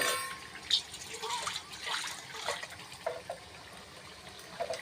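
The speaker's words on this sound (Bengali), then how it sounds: "সামান্য পরিমাণ পানি ব্যবহার করব।" A little water is poured into a pan of koi fish curry, a soft close gush and trickle with faint splashes lasting a few seconds.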